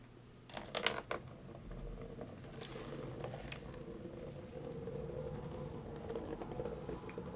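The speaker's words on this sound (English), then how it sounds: "then we're going to go ahead and add our water" Water is poured into a pot holding leftover coffee, a soft bubbling, splashing pour that starts with a few brighter splashes and settles into a steady low trickle, quiet and close.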